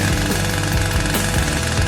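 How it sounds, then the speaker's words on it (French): A saw cuts into a watermelon during a kitchen challenge, giving a loud, rough, continuous rasping and grinding with rhythmic strokes and no pause. "Et moi, je vais utiliser une scie."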